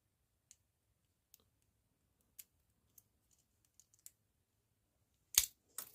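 Rigid Hiatt handcuffs being picked with a safety pin give a string of small, sharp metallic clicks, spaced irregularly across a quiet background, ending in two louder clattering bursts near the close.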